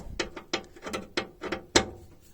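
Ratchet wrench loosening tight bolts on a Renault Super 5 door, a series of about five close, sharp clicking bursts in a steady rhythm, each a quick rattle of pawl clicks.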